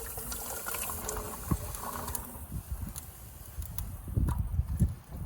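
Sweet potato pieces tumble and splash into a bourbon and brown sugar liquid in a pot on a Big Green Egg, giving several close, wet plops and sloshing bursts over a steady low background.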